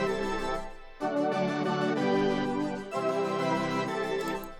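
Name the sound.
two 80s synths panned left and right, call and response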